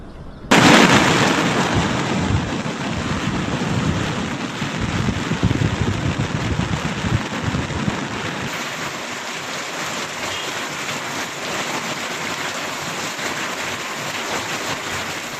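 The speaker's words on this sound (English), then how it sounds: "Rain has battered the entire east coast ahead of that cyclone" Heavy rain hammers down along the east coast of India ahead of a cyclone's landfall, a steady dense roar that runs loud and unbroken throughout with no distinct thunder claps standing out.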